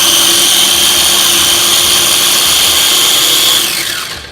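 A food processor blade whirs steadily as it chops fresh basil for pesto sauce, one loud continuous motor drone that holds for about three and a half seconds before spinning down near the end.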